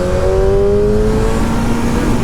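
A BMW M1000RR superbike engine runs steadily while riding at speed on the Autobahn. A loud, continuous drone carries a tone that slowly falls as the revs change, mixed with heavy wind rush.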